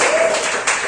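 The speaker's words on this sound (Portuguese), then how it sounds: "Pode bater palmas, igreja" A church congregation applauding, a brief dense wash of hand claps filling the room at steady loudness, with no voices standing out.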